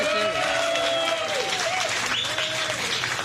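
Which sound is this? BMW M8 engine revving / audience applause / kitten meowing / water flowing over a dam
audience applause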